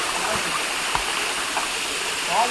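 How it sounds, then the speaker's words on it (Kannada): Manjalpade waterfall, water rushing steadily in a constant broadband wash heard nearby, with faint distant voices of people around. "ಇದೇ ವಾಟರ್ ಫಾಲ್ಸ್, ಮಂಜಲ್ಪಾದೆ ವಾಟರ್ ಫಾಲ್ಸ್. ಇಲ್ಲಿಂದ ನೀರು ಹೋಗ್ತಾ ಉಂಟು."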